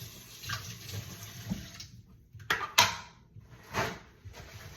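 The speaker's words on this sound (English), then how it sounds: "I'm going to rinse out my Keurig tray" Water from a faucet runs in short bursts as a Keurig coffee maker drip tray is rinsed, with a few louder splashes and soft clatters of plastic, close by and with no talking.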